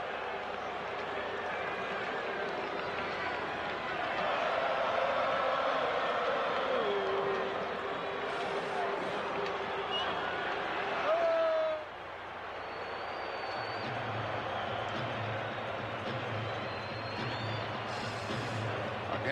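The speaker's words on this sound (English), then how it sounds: "Now the crowd comes back to life." A big baseball crowd roars continuously at a 1991 World Series Game 3 between the Minnesota Twins and the Atlanta Braves in Atlanta, swelling loudly and then settling into a lower steady rumble partway through.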